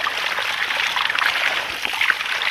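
Cold water trickles and splashes from the pipe of a micro hydro system, a steady bright bubbling flow up close, continuous without pause.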